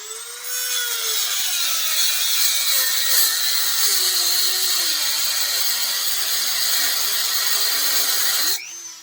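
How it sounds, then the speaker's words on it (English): A Dremel rotary tool cutting a slot into a small piece held in a vise, a steady high whine with wavering pitch running close and loud for most of the stretch, then stopping abruptly. "And then I get my Dremel."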